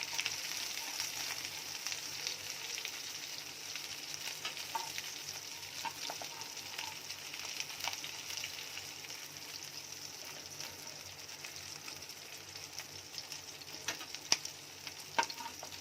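Fish fries in a nonstick pan with a steady, fine crackling sizzle that runs throughout, joined now and then by faint clicks and the scrape of a utensil.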